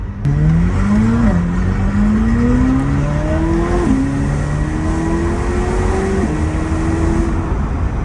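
A McLaren sports car engine in sport mode pulls hard up close, its loud drone climbing in pitch and dropping sharply with each gear change.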